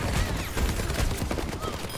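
Rapid pistol shots in a team-based shooter video game, a dense burst of sharp cracks fired close together over a couple of seconds amid busy game noise.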